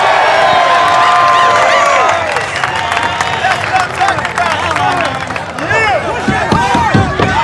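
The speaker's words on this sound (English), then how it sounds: "and Jimmy, the crowd is loving it" A crowd at a televised obstacle course competition cheers and applauds loudly and continuously, with excited commentary talking over the roar and whoops throughout.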